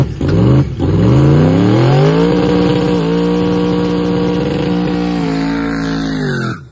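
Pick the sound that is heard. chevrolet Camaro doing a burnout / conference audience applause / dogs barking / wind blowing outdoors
chevrolet Camaro doing a burnout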